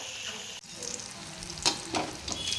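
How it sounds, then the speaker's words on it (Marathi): Stuffed green chilli fritters frying in hot oil make a steady close sizzle, broken by a few sharper crackles and spatters as pieces are moved or added. "मिरच्या एकदम व्यवस्थित तळल्या गेलेल्या आहेत आता आपण ह्या काढून घेऊया आपण आता सेकंड बॅच टाकून घेऊया"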